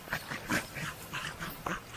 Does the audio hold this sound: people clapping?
no